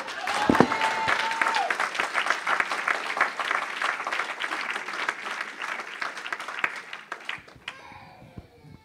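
A church congregation breaks into loud, sustained applause with scattered cheers, dense clapping filling the space for several seconds before it thins out and fades at the end.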